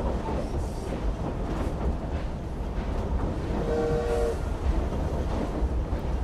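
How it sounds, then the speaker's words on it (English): A loud, steady train rumble with rhythmic clatter in the video game Assassin's Creed Syndicate, and a brief horn tone sounding partway through. "Well, it's a noisy train."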